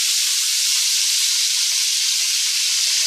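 Marinated beef seared in oil and butter in a pot gives off a steady, loud, high hiss of frying that stays constant throughout with no talk.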